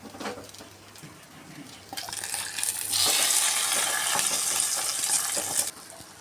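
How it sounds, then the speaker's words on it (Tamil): Cashew nuts fry in ghee for ven pongal, a steady crackling sizzle that swells loud and dense in the middle before easing off, with occasional pan and stirring noises and no voices. "முந்திரி பருப்பு லைட்டாக பொன்னிறமாக வறுபட்டதும்"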